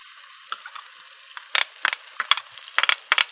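Onion, ginger, garlic and green chilli masala frying in melted butter in a pan, a soft steady sizzle broken by bursts of scraping and stirring from a spoon, close and alone without talk.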